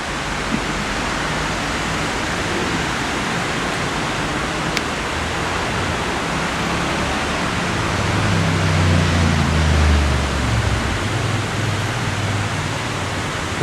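Water from the Pradier Fountain in Nîmes splashes in a steady broadband rush, swelling slightly toward the end, heard up close outdoors with no talking.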